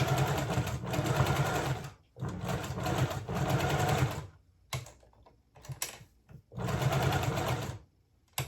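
A sewing machine stitching plaid fabric for men's pants, running in steady whirring bursts of a second or two separated by short pauses, close and loud.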